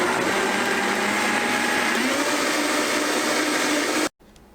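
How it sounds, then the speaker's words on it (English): A blender whirs steadily at high speed while blending jamu juice ingredients, a loud, constant motor roar that cuts off abruptly near the end, leaving faint room noise. "Okay, I've got it all blended, I think."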